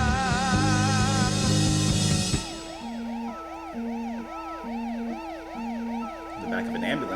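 A rock song gives way to a wailing ambulance siren, its rising and falling tone repeating steadily alongside a two-note alternating horn pattern, fairly loud and without voices over it.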